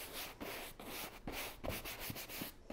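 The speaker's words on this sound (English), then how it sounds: "Be sure to push your wax in hard." Wax being pushed hard and rubbed into a chalk-painted fabric seat cushion, a close, steady scrubbing and rubbing with rhythmic strokes and brief pauses, no voices.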